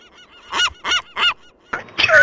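Birds in the ArmA video game honk three times in a steady rhythm, loud and close, followed by a short burst of harsh noise.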